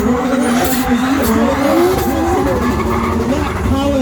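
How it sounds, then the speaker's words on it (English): A BMW E46 fitted with a 2JZ engine drifts at a Doncaster racecourse motor show, its engine droning loud and steady at high revs with fluctuating pitch as the tires smoke and squeal continuously, with faint background voices. "this incredible E46 has got so much power at his disposal. He just simply drops it in there, smoking up those tires"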